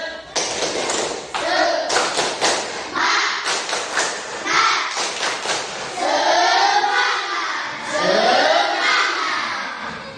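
Schoolchildren in a classroom perform a rhythmic spirit clap, with bursts of sharp, patterned hand claps in quick groups, then loud group chanting and shouting that carries over the final claps.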